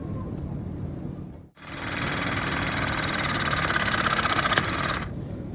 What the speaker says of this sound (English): You run the tool until you hear a pop,